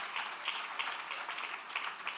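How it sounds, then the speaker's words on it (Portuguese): Steady applause from a business congress audience, a dense wash of many hands clapping without break for a couple of seconds, fairly even in loudness, with no talk over it. "Uma salva de palmas"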